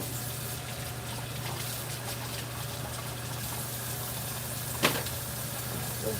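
Water hosed over a tiger to rinse dirt off, a steady broad spray hiss under a low continuous hum, with one brief knock near the end.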